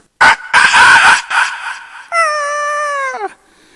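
A voice imitates a rooster crowing on stage at a comedy show, with choppy squawking bursts and then a long wavering cock-a-doodle-doo call that cuts off abruptly.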